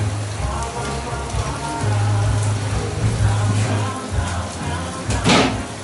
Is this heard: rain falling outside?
yes